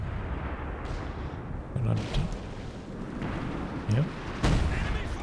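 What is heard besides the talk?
concentration barrage artillery in video game Company of Heroes 2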